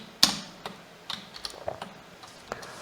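Quick, uneven keystrokes on a computer keyboard while HTML list code is typed, close and fairly crisp, with one sharper key strike near the start and no voices.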